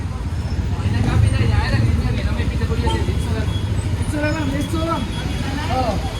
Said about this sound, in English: we're at the bus terminal now